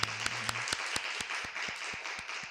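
Church congregation clapping during a Sunday worship service, a soft diffuse applause bed cut through by sharp, evenly spaced claps in a steady rhythm, with a brief low hum at the start.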